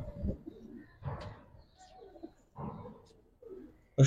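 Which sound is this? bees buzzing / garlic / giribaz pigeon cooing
giribaz pigeon cooing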